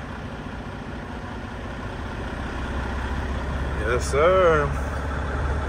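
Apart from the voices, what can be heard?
2015 Freightliner Cascadia truck engine idling, idle raised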